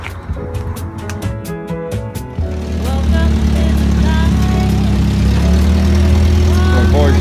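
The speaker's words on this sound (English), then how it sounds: "Cadillac 500 engine" A Cadillac 500 engine in a truck turns over and settles into a loud, steady, rumbling idle with a deep low drone, some higher clatter and brief sounds over it.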